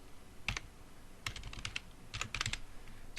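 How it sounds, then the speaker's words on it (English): Typing on a computer keyboard during Excel VBA programming, two short bursts of quick key clicks separated by a pause, close and fairly quiet with no talk. "If I were to type it like that"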